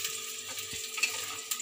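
Steamed potatoes frying in a pan until reddish for an egg and potato curry, a steady broadband sizzle with a few faint stirring knocks, close and continuous throughout.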